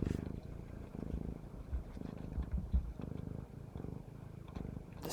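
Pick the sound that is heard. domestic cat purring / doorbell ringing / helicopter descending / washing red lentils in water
domestic cat purring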